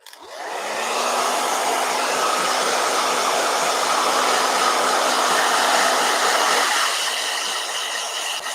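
A blow dryer runs in a watercolor painting session, starting up and holding a loud, steady whooshing roar for several seconds before easing slightly near the end.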